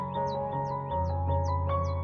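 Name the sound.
birds calling in the morning, crows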